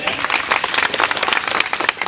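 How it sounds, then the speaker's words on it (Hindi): Spectators at a wrestling dangal in Ambedkar Nagar clap loudly and continuously, dense close applause from a large crowd with a voice faintly underneath. "और एक बार राकेश पहलवान के नाम पर ताली बजाइए"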